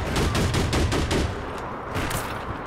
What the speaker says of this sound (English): someone's shooting at me